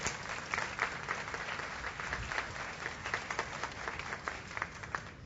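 Congregation applauding in a church, steady dense clapping throughout, fairly loud and close, with scattered crowd voices mixed in.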